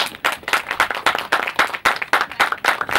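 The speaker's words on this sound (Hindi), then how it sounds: "जोरदार तालियां बजाएं, come on everybody, put your hands together" An audience at a web series launch event claps in a burst of loud, irregular applause, close and sustained throughout.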